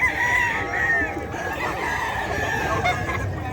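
A Sweater Gray gamefowl rooster crows loud and close at a Bocaue poultry market, one drawn-out call over a low murmur of background activity.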